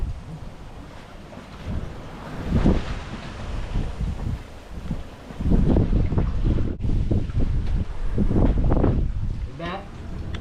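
Gusty wind buffets a sailboat at sea on a passage from Porto Vecchio toward Sardinia, rushing and roaring against the microphone with surging swells, while people speak over it.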